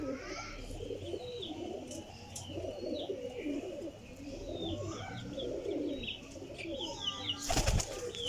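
Marked Firozpuri pigeons coo steadily in low, rolling phrases, with higher bird chirps scattered above and a brief burst of wing flapping near the end.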